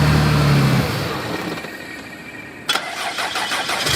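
A Porsche 911 engine with dual pulley and heat exchangers cranks and catches, settling into a steady idle, then a sudden burst as it revs slightly, loud and close.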